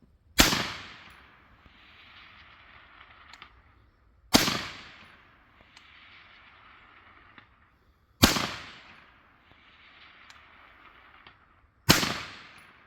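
Scoped carbine rifle fired at a target 720 away, four sharp loud shots spaced about four seconds apart, each followed by a faint delayed ring of the distant hit.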